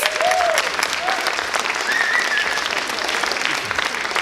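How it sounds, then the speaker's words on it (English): An audience gives a steady round of applause as a volunteer is invited onstage, dense clapping lasting several seconds with a few short whoops and cheers rising above it. "Give him a big round of applause"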